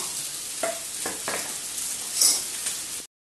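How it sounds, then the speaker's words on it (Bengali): Vegetable curry with tomato and a little water being stirred in a pan, a few separate scraping strokes with soft sizzling between them, moderately quiet and close, no voices. "একটু নাড়া দাও"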